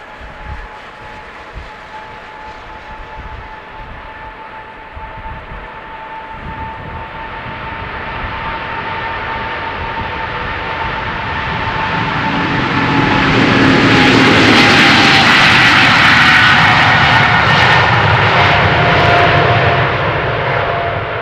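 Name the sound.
Boeing 777-200ER with GE90 jet engines taking off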